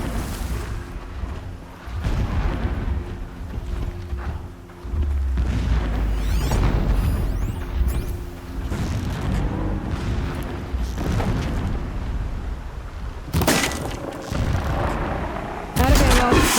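Deep booms and rumbling blasts roll in from the distance in Horizon Zero Dawn, heavy and continuous, with sharper crackling bursts near the end and a voice talking over them at times.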